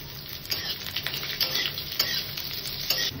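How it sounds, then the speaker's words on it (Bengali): Chopped onions dropped into hot oil already tempered with curry leaves give off a steady close sizzle, crackling brightly with small pops and spatters throughout. "এবার আমি এর মধ্যে দিয়ে দেবো কাটা পেঁয়াজগুলো"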